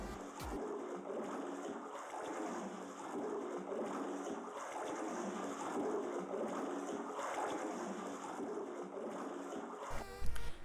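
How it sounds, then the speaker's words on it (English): Looping water ambience from a Unity 3D RPG game plays as a continuous splashing, sloshing wash at moderate level with a faint steady high tone and no voices. "And also making some sound effects of water."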